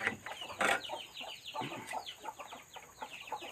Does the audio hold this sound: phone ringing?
no